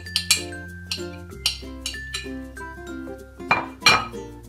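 Asparagus and sliced mushrooms drop into the metal bowl of a SilverCrest Monsieur Cuisine machine from Lidl, giving a few sharp, close clinks and knocks over steady background music.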